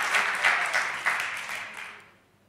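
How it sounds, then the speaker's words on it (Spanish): Brief audience applause at a thirtieth-anniversary event, a soft wash of clapping that swells briefly and then tapers off to silence within a couple of seconds. "Un aplauso para Margarita."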